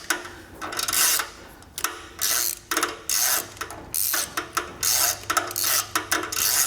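A Koken ratchet turning on a wobble extension while a 992 GT3 exhaust is being removed, giving bursts of rapid clicking and rasping strokes, close and repeated in an uneven rhythm.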